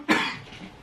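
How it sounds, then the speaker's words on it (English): A single short, dry cough from one person nearby, a sharp burst that fades quickly. "Why you coughing?"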